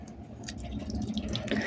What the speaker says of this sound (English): now I do want to top the water up in here because it's a simmer pot at the end of the day